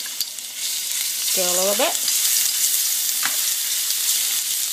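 Garlic sizzles and fries steadily in hot oil for Red Chilli Tamarind Pickle, a constant crackling hiss throughout, with one brief spoken remark over it.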